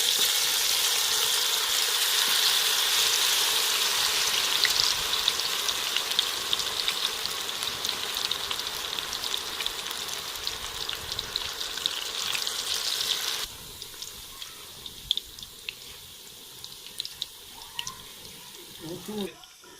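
Spinach and potato pakoras crackle and sizzle in hot ghee with a dense, rain-like hiss that thins out partway through, and a voice talks over the frying at points.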